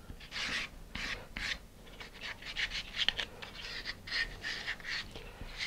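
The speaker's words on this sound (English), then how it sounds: "I'm going to sand the sides of that too" Sanding the sides of a wooden model rocket sled, likely a fine abrasive rubbing back and forth over wood in quick rasping strokes, close and fairly quiet, with no talk.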